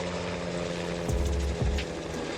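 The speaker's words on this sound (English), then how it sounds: "Ever seen helicopters at work in forestry?" Helicopter working in forestry near tree cutting, a steady loud rotor and engine drone with low thumping sweeps, continuous throughout without speech.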